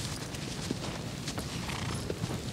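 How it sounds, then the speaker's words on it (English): Horse hooves clip-clopping in Shadow of the Colossus on PS4, a steady walking rhythm of soft hoofbeats under broad game ambience. "No, come back here, horse."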